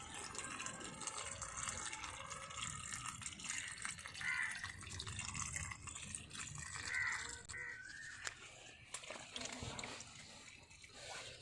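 Water draining out of a car cabin through a hole drilled in the floor, a faint trickling, dripping flow with occasional splashes, while someone talks over it.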